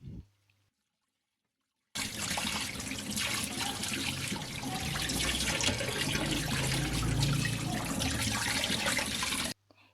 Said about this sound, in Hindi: इसी तरह एक एक पीस को मैं अच्छे तरीके से धो लूँगी मछली को अच्छे तरीके से धो लेंगे